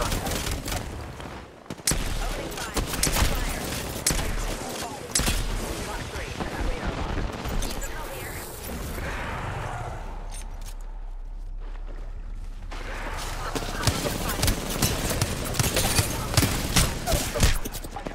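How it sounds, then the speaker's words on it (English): Gunfire in the video game Apex Legends crackles in dense, rapid bursts across the whole stretch, with heavy booms and shots layered together. Voices talk over the gunfire. "Opening fire"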